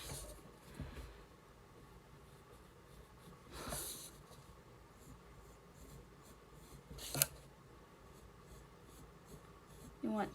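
Pen strokes scratching on paper while drawing cartoon eyelashes, quiet and close, with a few short bursts of sketching spaced across the stretch.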